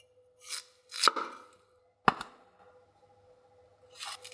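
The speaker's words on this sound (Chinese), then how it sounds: "切成滚刀块，大块一点不要紧的。" A knife chops a radish into large chunks on a board, with three or four sharp, separate cuts at uneven intervals, close and clear with no talk.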